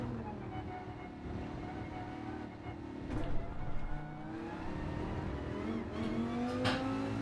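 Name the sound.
race car engine revving and gear shifting, Gran Turismo 7 video game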